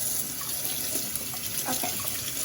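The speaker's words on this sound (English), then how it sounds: "I'm actually gonna go wash my hands" Steady rush of tap water running into a sink during handwashing, a continuous broadband splash that stays even and close throughout.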